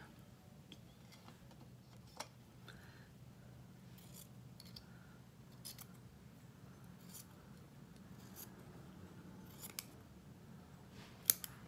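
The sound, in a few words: scissors cutting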